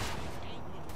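Rapid bursts of gunfire in the video game Saints Row: The Third crackle across a one-second stretch, dense and loud, with a voice faintly audible underneath.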